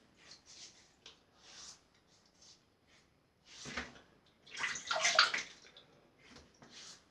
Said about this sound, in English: Let me just add a little more moisture to my face.